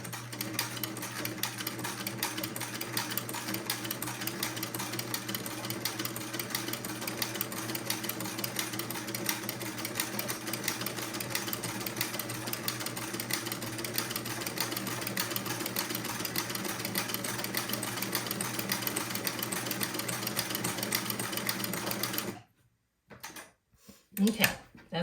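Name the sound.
sewing machine stitching a buttonhole with buttonhole attachment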